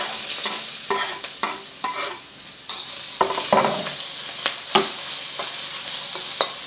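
Onions hitting vegetable oil in a smoking-hot wok, a loud sizzle punctuated by repeated scraping stirs and clanks of the spatula against the metal.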